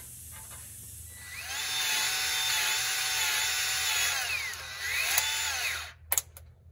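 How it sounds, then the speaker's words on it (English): A power drill whines steadily at close range, its pitch dipping and rising as it bores through a small piece of metal, then stops with a couple of clunks. "we're gonna drill a hole right this little piece of metal here"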